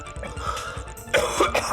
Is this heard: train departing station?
no